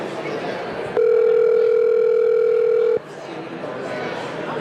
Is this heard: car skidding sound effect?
no